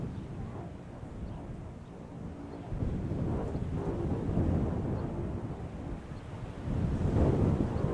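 Wind gusting across an outdoor high school baseball field, a loud broadband roar buffeting the microphone, rising in strong surges partway through and again near the end, with no one talking.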